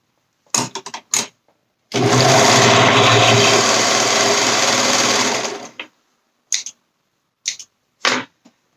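A sewing machine runs steadily for about four seconds as it stitches the long side seam of a fabric romper. Brief handling clicks come just before and after, with no talk.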